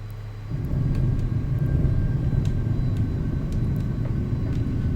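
A Learjet 35A touching down in a flight simulator, the engine drone at idle giving way to a steady rumbling roll along the runway after a sudden rise in level, with no voices.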